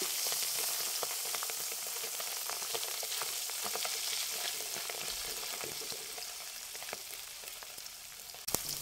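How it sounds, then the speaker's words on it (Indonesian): Fish coated in a little wheat flour frying in hot oil, a continuous dense sizzle with fine crackling, steady and moderately close, ending with a couple of sharper clicks. "Goreng ikannya sebentar saja supaya ikannya tidak kering."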